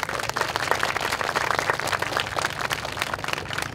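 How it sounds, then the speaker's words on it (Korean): A large crowd at a university debate forum applauds loudly and continuously, dense overlapping claps forming a steady roar that holds throughout. "우리 총학에게도 큰 박수 부탁드립니다"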